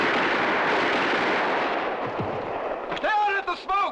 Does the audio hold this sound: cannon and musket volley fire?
yes